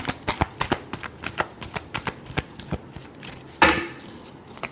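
A deck of tarot cards is shuffled by hand in a fast, regular run of crisp riffling snaps. The run ends in a louder final flutter, close and clear with no talking.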